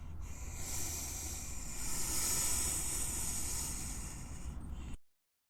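Snapping turtle letting out a sustained breathy hiss lasting several seconds, close and fairly loud, with rough airy noise over a low rumble and no talking.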